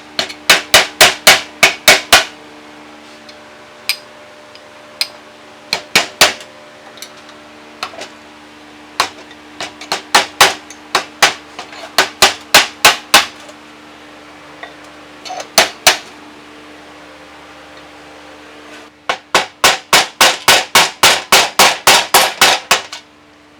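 Sharp metal-on-metal hammer blows on a punch, driving out the old harmonic balancer seal on an old Mercury 260 V8, landing in fast bursts of about eight to twelve strikes with short pauses between, close and loud.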